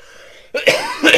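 A few harsh, close coughs in quick succession break a quiet background, loud and abrupt.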